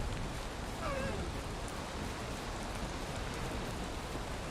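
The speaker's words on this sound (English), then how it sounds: "Now, wow, it's raining." Steady rain falls outdoors on a homestead, a dense, even hiss of drops that stays close and constant throughout, with no voices over it.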